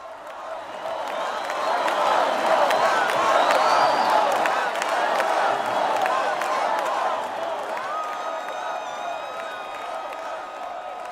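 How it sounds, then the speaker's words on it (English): A political convention crowd roars and applauds for Peter Navarro at the Republican National Convention: a large arena swell of cheering, clapping and whoops that builds, peaks, then eases slightly while staying loud, with some voices mixed in. "the crowd appears to be very excited for the former senior advisor on trade"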